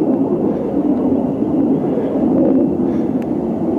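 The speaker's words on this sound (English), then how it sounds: "You hear the military jets in the background." Military jets fly overhead in daytime, a broad continuous roar that swells and recedes slightly at a distance, steady and loud without speech.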